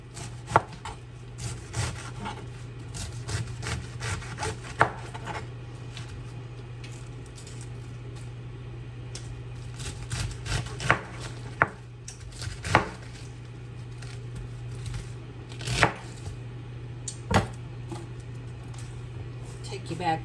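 A knife chops fresh garden cabbage on a board with irregular sharp knocks, some louder than others, over a steady low hum.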